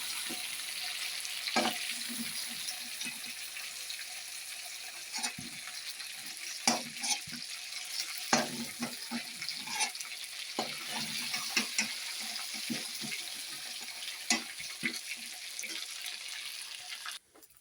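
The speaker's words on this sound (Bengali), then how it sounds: "এবার ভালো করে চিকেনটা ভেজে নেব" Chicken pieces frying in a kadai with turmeric, a soft continuous sizzle broken by occasional scraping and stirring knocks, close and fairly quiet with no talk.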